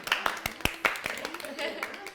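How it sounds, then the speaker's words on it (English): A small party group gives a short burst of scattered hand claps for the host at a home gathering, a handful of sharp claps mixed with chatter. "I do want to give a big round of applause to Erin for hosting the party today."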